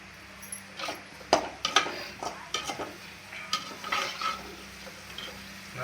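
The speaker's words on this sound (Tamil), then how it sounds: "அந்த நெய்யிலே வந்து முந்திரி திராட்சை நல்லா நெய்யில் வந்து வறுத்து எடுத்துக்கலாம்" Cashews and raisins frying in ghee give a soft background sizzle, broken by a series of clinking, scraping stirs of a spoon against the pan at an uneven rhythm.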